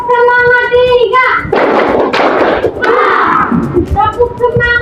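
A classroom group performs the tepuk semangat 3 clapping rhythm, a burst of loud, dense hand claps and thuds from many children at once, with a sung or spoken voice before and after the clapping.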